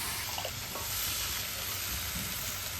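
Vegetables go into a pan of onion, green chilli and turmeric already fried in oil, setting off a steady close sizzle with light stirring clatter and a faint high whine, short and without talk.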